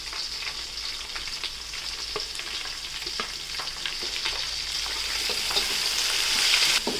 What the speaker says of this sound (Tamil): இல்லை கொஞ்சம் வெங்காயம் வணங்கணுங்க